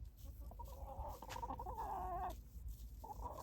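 Easter Egger hen clucking and making drawn-out murmuring calls, faint and nearby against a steady low rumble of background noise.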